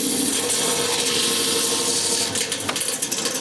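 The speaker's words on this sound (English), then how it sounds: "So I will be cutting it right through the center of this piece" A saw cuts straight through the center of a Coyamito agate stone with a loud, steady grinding whine up close, holding without a break and roughening slightly near the end.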